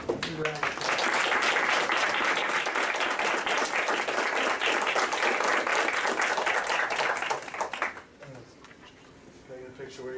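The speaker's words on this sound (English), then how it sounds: "Let's give this group a round of applause." Audience at a school board meeting claps steadily for about eight seconds, a dense close patter of many hands, then it fades out and faint talk and movement follow.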